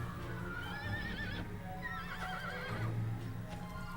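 A horse in the video game Dragon Quest VIII whinnies in two long wavering bursts over a steady clip-clop of hooves, moderately loud, with no talking.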